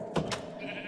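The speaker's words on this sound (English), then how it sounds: "why is there sheep in our bedroom?" A sheep bleats twice in the Minecraft RLcraft game, two short close cries in quick succession over a faint steady background.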